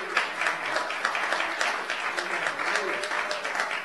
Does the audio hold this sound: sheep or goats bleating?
no